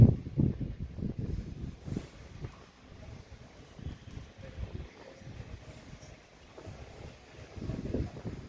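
Wind buffeting a microphone outdoors, low rumbling gusts that rise and fall steadily throughout, close and fairly loud with no other clear sounds.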